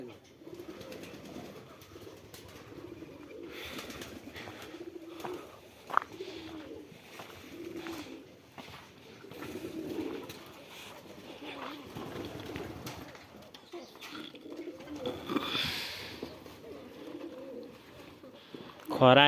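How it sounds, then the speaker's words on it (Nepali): Pigeons coo repeatedly at a farm or animal enclosure where rabbits and roosters are also kept, with a steady murmur of people talking nearby throughout. "यो परेवा चाहिँ कस्तो खालको परेवा?"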